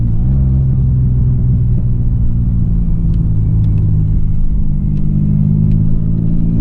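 A 2002 V6 Pontiac Firebird with a manual transmission, muffler delete and intake silencer delete drives a backroad, its engine a loud, continuous low rumble from inside the cabin, steady with slight variations in pitch and no talk.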